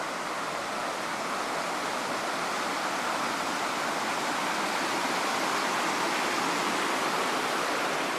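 Creek water rushes steadily past a salmon counting weir used for coho at Miracle Beach on Vancouver Island, a dense, even broadband wash that stays loud and unbroken throughout.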